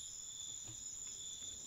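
Insects such as grasshoppers or crickets chirp steadily in a forest, a continuous high, thin trill at low volume that goes on without a break.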